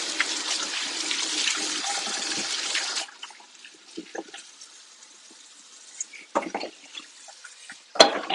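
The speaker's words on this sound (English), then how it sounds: "Just washing my hands." Running tap water splashes steadily in a kitchen sink as hands are washed after handling raw meat, then stops, leaving a few soft clinks and faint handling sounds.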